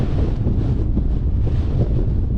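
Steady breezy wind buffets the microphone on a clear hilltop summit about 408 metres high along the Cleveland Way, a continuous low rushing roar with no voices.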